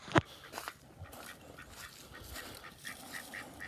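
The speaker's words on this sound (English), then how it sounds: "Right here we got some Anaconda ducks." Ducks on a homestead give a sharp close honk near the start, followed by softer scattered quacks and calls over quiet outdoor ambience.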